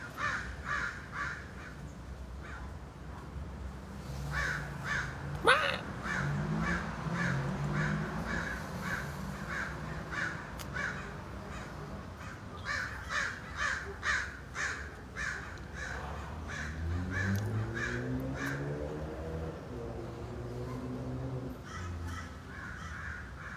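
A person imitates crow caws by gargling at the back of the throat, giving a long run of rough, rhythmic caws in quick repeated bursts, moderately close, with no talking.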